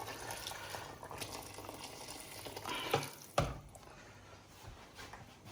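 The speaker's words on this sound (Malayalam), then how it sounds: "വെള്ളം ചേർത്തുകൊണ്ട് സംഭവം പെട്ടെന്ന് തിളച്ചു." Chilli chicken gravy bubbles at a low, steady boil after hot water is added, with a couple of sharp utensil knocks near the middle.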